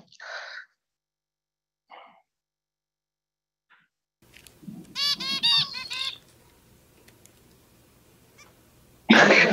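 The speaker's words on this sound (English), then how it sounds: "Here's a video of a father finch tutoring his son." A zebra finch father sings his song to tutor his young son, with a few short calls over quiet, then a bright harmonic phrase of song in the middle and a sudden loud burst at the end.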